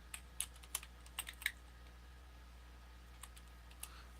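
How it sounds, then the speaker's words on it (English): Quick bursts of keystrokes on a computer keyboard during a live painting demo stream, clustered clicks in the first second and a half, then a few sparse taps against a quiet room hum. "Sorry, my typing's a little bit off tonight."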